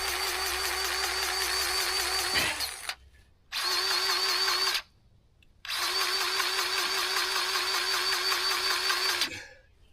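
Pull-start engine with a freshly fitted rope is yanked repeatedly: three long loud mechanical whirring pulls separated by brief silent gaps, the engine never settling into a steady run.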